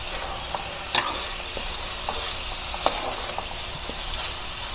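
Pork kasim browning in a pan gives a steady close sizzle, with a couple of sharp scrapes of stirring cutting through and no talk.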